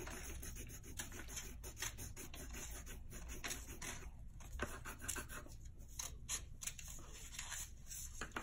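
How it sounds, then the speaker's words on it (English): Scissors cut paper for a children's backpack craft, making close, repeated rasping snips and small creaks in an uneven rhythm, with no talking. "Make sure you open and close those scissors."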